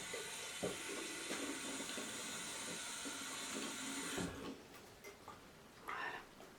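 Water runs steadily from a tap, rinsing soap away in a quiet close-up bathroom scene, a continuous hiss that cuts out partway through, followed by a few soft drips and splashes.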